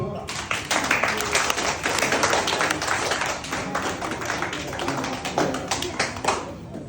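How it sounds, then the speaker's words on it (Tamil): An audience claps hands steadily at a Navaratri puja temple gathering, a dense patter of applause lasting several seconds at moderate distance with no clear break. "கை தட்டுங்க"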